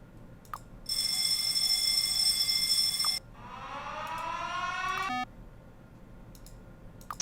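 A buzzer alarm in the Factorio video game sounds twice, first as a steady harsh electronic tone lasting about two seconds, then as a rising warbling tone that cuts off abruptly, with faint clicks before and after.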